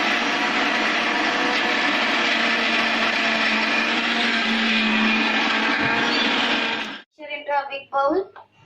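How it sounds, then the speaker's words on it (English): A kitchen blender whirs steadily at high speed through a cooked mixture, loud and close for about seven seconds before cutting off abruptly, after which someone begins talking. "we should transfer it in the blender for making a coated texture mixture"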